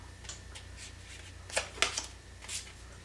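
Tarot cards being shuffled during a reading, with a few soft riffling bursts and brisk flicks, close and fairly quiet, the loudest cluster coming midway, with no talking.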